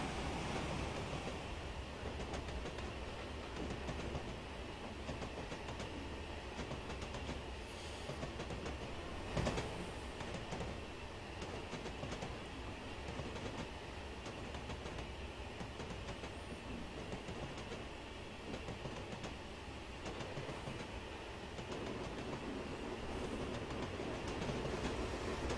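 Steady rolling rumble and rail clatter of a BR Black 5 steam locomotive hauling a train on the Western Lines of Scotland in Train Simulator 2015, continuous and fairly loud throughout with no talk.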